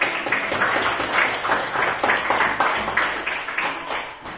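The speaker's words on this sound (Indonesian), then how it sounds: "tepuk tangan dulu untuk tangan Ibu" A classroom of students gives a round of applause for a classmate during a lesson, steady dense clapping that holds at an even level for several seconds.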